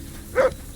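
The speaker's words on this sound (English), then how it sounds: "That dog of yours is barking like the devil." A single short dog bark in the medieval game Kingdom Come Deliverance II, one brief moderately loud yelp over a quiet background.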